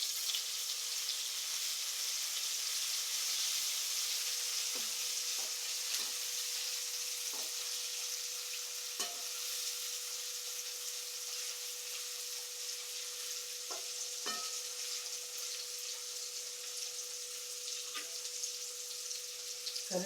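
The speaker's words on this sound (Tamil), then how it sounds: "தக்காளி போட்டு நல்லா வணக்கி விடுங்க" Onions and tomatoes sauté in a pan with a steady broadband sizzle and hiss running throughout, punctuated by occasional soft clicks and scrapes of stirring, close and moderately loud, with no talking.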